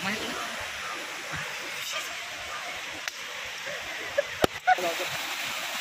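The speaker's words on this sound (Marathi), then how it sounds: "आणि पाहू शकता कोथरूड डॅम आणि हा सांडवा" Water pours steadily over the Kothrud dam spillway in the Konkan region, a dense close rush with faint voices and a few sharp knocks near the end.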